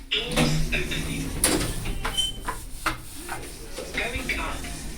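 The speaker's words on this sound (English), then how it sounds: "Doors opening." Lift doors in Sutton, London slide open with a mechanical rumble and scattered clatter, close and fairly quiet, over steady background noise.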